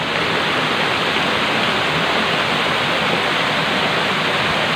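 Kulapniton Falls roars in a loud, steady, unbroken wash of falling water that fills the whole stretch evenly, heard close up with no voices.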